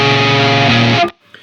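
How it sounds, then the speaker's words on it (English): Guitar run through an Old Blood Noise Endeavors Excess V2 pedal with distortion and modulation side by side: a loud, sustained distorted chord with wavering modulated tones for about a second, then cut off into near silence. "right now it kind of sounds out of balance because the distortion is way louder than the modulation"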